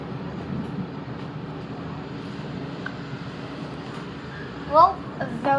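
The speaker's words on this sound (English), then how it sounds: "a very full train" A crowded passenger train passing in Sydney gives a steady, loud rumble of wheels and motors that fills the whole clip, with a few sharper squeaks and clatters near the end and voices faintly mixed in.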